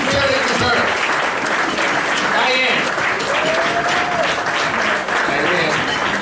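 A crowd at a community service awards event breaks into loud, sustained applause for an honoree, with voices talking through the clapping.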